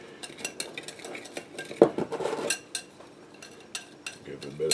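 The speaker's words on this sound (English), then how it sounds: "Give it a bit of a stir there." A spoon stirs a yeast and sugar mixture in a bowl while making tiger bread, giving a series of quick clinks and scrapes against the bowl, close and fairly loud.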